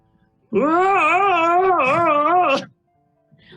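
A single human voice lets out a long, wavering, wailing scream-like cry for about two seconds, mimicking a scream, then falls silent.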